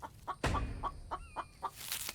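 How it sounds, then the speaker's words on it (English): Chicken clucking in the video game The Infected: a run of short, clipped clucks at a steady pace, moderately close, with a brief louder burst near the start and no talking. "I hear you, chicken."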